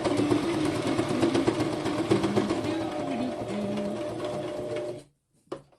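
A sewing machine runs steadily at close range with a rapid mechanical whir, then stops abruptly, followed by a brief clunk.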